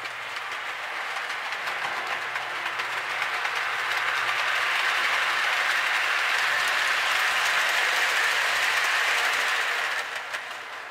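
Marx model trains run on a small micro-layout, a steady rushing clatter of wheels on track that swells and then fades slightly, with no talk.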